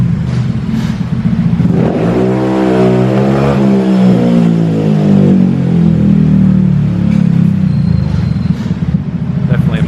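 A car engine with a modified exhaust revs up hard, rising into a loud, throaty drone that holds steady at high revs for several seconds before easing off, close to the listener.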